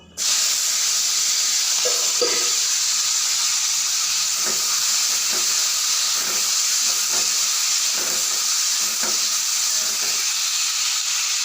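Loud, steady sizzle and hiss of whole spices such as cinnamon and dried red chilli frying with onion, garlic, ginger and tomato, with occasional stirring scrapes under the constant spatter.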